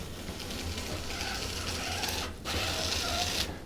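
Hand-cranked apple slicer turning through an apple while it's made into a dehydrated trail mix snack. A close mechanical grinding and clicking rhythm is briefly broken midway, then resumes, with no talking.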